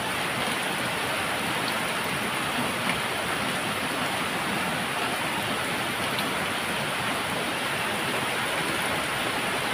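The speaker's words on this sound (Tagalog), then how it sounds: "Umaga na ulan na." Steady, dense rain pours down without a break, a loud, even hiss of heavy rainfall with no voices.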